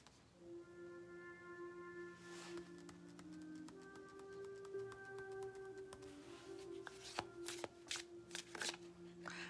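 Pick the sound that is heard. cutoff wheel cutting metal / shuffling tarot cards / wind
shuffling tarot cards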